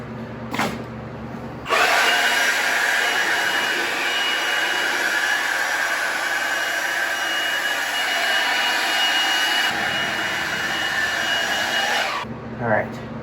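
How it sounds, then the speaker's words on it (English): A car blower roars steadily while drying a washed Boss 302 car, a loud continuous whooshing hiss that starts abruptly and runs for about ten seconds before cutting off, with brief sounds before and after. "I'm going to blow dry it off"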